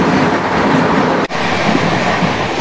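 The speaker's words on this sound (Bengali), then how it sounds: "এই যে ট্রেনটা পাস করলো এটা হচ্ছে 12987 শিয়ালদা আজমের সুপারফাস্ট এক্সপ্রেস" The 12987 Sealdah–Ajmer Superfast Express rushes past close by, a loud, continuous roar of wheels and rattling carriages with one brief dip in the middle, and no voices.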